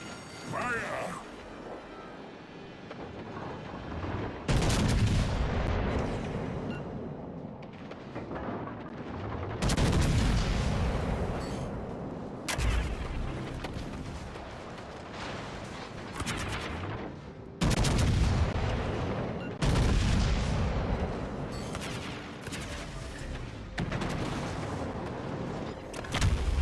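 Ship guns firing shells in World of Warships: Legends, several loud booming salvos at intervals of a few seconds, each with a sharp crack and rolling tail over constant battle rumble.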